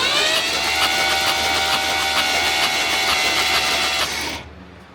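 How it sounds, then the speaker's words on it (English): Fast buzzing, rhythmic clatter from a stuck number 7 fuel injector, a cheap aftermarket part, pumping fuel on a Foxbody Ford Mustang; loud and steady, then cutting off abruptly near the end. "The number 7 injector is just pumping fuel out."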